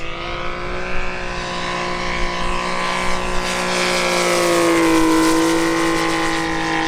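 The radial engine of a Seagull Model 87-inch F4U Corsair RC plane drones loudly on a low pass, its steady throaty roar swelling and shifting pitch as the model sweeps by close.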